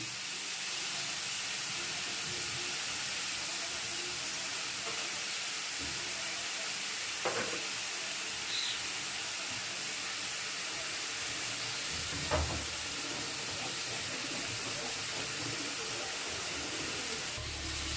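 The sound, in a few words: green chillies frying in a pan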